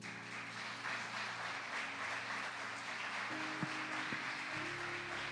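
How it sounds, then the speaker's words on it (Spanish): Steady applause from a church congregation fills the space, a dense wash of clapping that continues evenly throughout, with some low tones in the background. "Denle aplauso al Señor."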